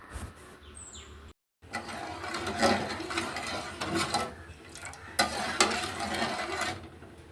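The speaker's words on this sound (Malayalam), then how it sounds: "പഞ്ചസാര ഇട്ടതിന് ശേഷം നമുക്ക് നന്നായിട്ടൊന്ന് മിക്സ് ചെയ്ത് കൊടുക്കാം" A spoon stirs sugar into milk heating in a pot, making a steady run of soft scraping and clinking strokes that carries on for several seconds after a brief dropout, close up with no voices.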